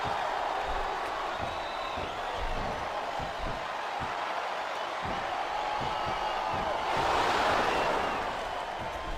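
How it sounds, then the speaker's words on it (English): A broad, steady roar of a large crowd cheering in the wrestling video game WWE 2K24 during a TLC match, swelling briefly near the end, with scattered thumps beneath. "I love hearing the crowd come alive"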